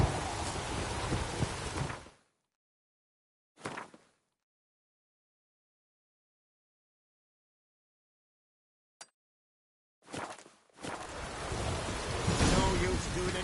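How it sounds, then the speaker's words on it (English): Steady rain hisses with rumbling thunder in The Witcher 3, loud and continuous, then cutting to silence with a few brief bursts before the downpour returns at full strength. "No use doing any work in this rain."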